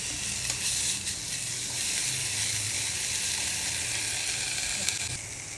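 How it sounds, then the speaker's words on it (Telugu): Ginger garlic paste and green chilli paste sizzle and fry in a pan, a steady loud hiss of oil running continuously with no talking. "ఇవన్నీ మంచిగా వేగిపోయినాయి చూడండి పచ్చిమిరపకాయ పేస్ట్ అల్లం ఎల్లిగడ్డ పేస్ట్"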